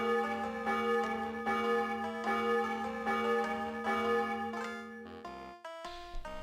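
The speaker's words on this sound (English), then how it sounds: "now we got to wait for his 25 o'clock bell" Church bell tolling in the Super Smash Bros RPG video game, with repeated rhythmic bell strikes over sustained tones, steady and moderately loud, then a few brighter chime notes near the end; no talking.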